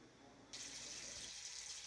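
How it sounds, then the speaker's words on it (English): Hot tap water starts running over a jar of creamy peanut butter in a kitchen sink, a sudden steady hiss of flowing water. "I'm running hot water over the peanut butter."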